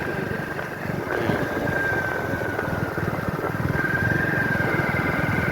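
A motorcycle engine idles with a steady, fast, even putter, loud and close throughout, outdoors on an afternoon trip in Purulia.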